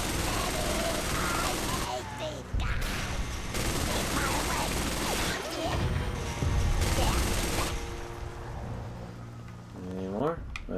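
Dense, continuous bursts of gunfire and explosive shots from the Xbox game Conker: Live & Reloaded fill the scene at steady loudness, with someone talking over the battle.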